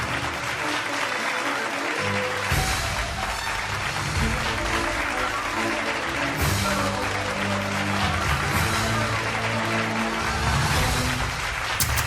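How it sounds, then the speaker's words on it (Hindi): A crowd applauds at the final of a junior-category bhajan competition in Mathura, sustained dense clapping that carries on for the whole stretch, loud and close, with music or voices faintly underneath. "एक बार फिर से आपकी तालियों का मैं इंतजार करूंगा।"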